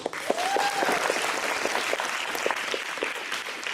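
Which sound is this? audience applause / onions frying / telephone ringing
audience applause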